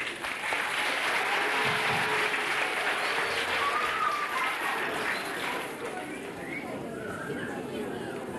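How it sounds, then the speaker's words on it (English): Village audience gives a big round of applause for local National School children at a 1984 parish talent show, dense clapping that starts strong, then thins and softens toward the end amid some crowd chatter. "I'd like to give them a big round of applause, please"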